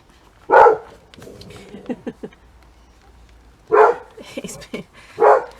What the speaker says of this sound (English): Oh, Dexter, what are you barking at?